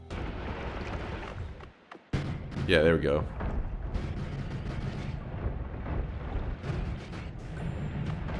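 Propane tank explosions in a video game, heavy booming blasts that rumble continuously through the clip, with a brief silent gap before a loud burst, under a player talking.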